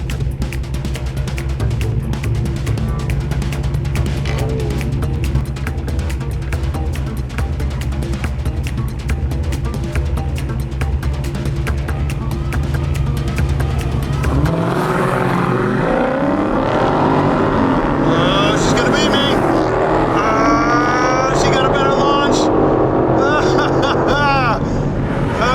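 A steady engine drone holds, then a Dodge muscle car roars as it accelerates hard in a drag race, pitch sweeping upward through the gears, with voices talking over it.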